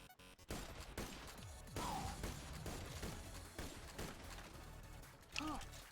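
Sniper rifle fire in the Borderlands video game, several sharp shots and impacts scattered through a short stretch amid game effects, with a player talking between them.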